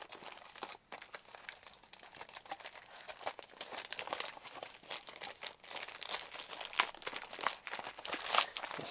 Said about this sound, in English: I don't know why there was a random piece of paper just in there.